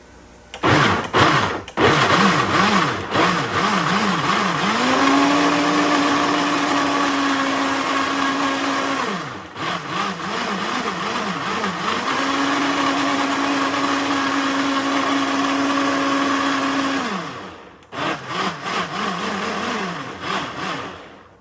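An electric blender whirs through a seasoning mixture, starting with a few stuttering pulses and then running in loud, steady, high-pitched stretches, stopping briefly in the middle and pulsing again at the end, with no voices.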